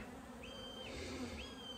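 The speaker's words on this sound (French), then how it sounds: "on a pas mal d'abeilles. On est en fin de journée, ça rentre pas mal." Bees buzz densely at a beehive entrance at the end of the day, a continuous close droning hum from many insects with individual wingbeats rising and falling in pitch.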